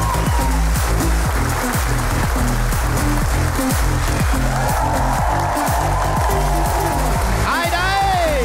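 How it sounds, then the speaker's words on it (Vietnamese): Studio audience applause welcomes guests onto a Vietnamese comedy game show stage, a steady dense clapping over rhythmic music with a bright rising musical sweep near the end. "Hãy dành cho họ một tràng vỗ tay để chào đón họ"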